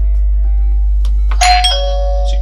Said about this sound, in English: as you can see there, the mechanical chime sounded